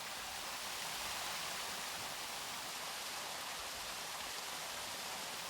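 Water falls steadily through an artificial waterfall into a pond at an old royal garden pond, a continuous even hiss and rush at moderate distance with no voices.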